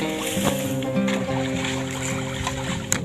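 Water ambience of a village canal in rural Udon Thani, with a faint boat engine humming steadily, soft water movement and small splashes, and a brief sharp knock near the end.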